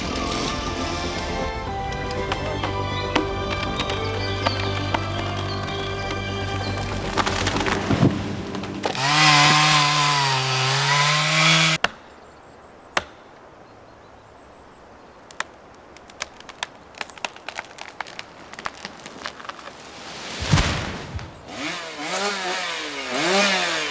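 A chainsaw cutting up a felled tree: a loud, sustained engine whine at the start with wood splintering, then a sudden drop to quieter clatter, scattered snaps and a brief revving burst.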